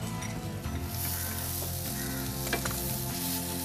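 Food sautés in a pan in a kitchen at Punnamada Resort, a constant close sizzle with a faint tonal hum running underneath.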